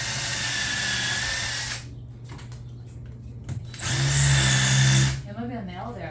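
Power drill whirring loudly in bursts during drywall repair, running steadily for about two seconds, stopping, then revving again, with people talking nearby between runs.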